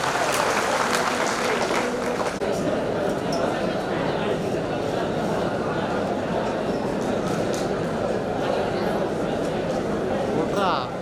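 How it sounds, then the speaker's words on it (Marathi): At a prize-draw event, an audience claps loudly and continuously for the winners, a dense patter of many hands that stays steady throughout, with some chatter mixed in. "टाळ्या वाजवा मंडळी यांच्यासाठी."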